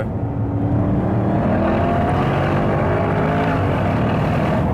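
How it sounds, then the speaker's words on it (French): A Mercedes SLR McLaren 722 Edition's engine revs hard from inside the car, a loud continuous roar with rising harmonic tones as it climbs through the range, without talking. "Putain, le bruit dans les tours c'est un truc de fou."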